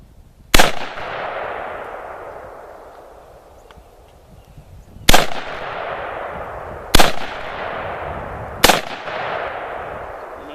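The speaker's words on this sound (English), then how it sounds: "what I'm gonna do right now is just squeeze off some shots" A Century Arms C-93 Patrol carbine fires four sharp, loud shots outdoors, the first alone and the last three in quicker succession, each followed by a long echoing decay.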